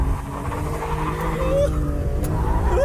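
A BMW E46 M3 driven hard on a race track gives a steady, loud engine drone whose pitch rises as it accelerates, with a voice faintly present over it.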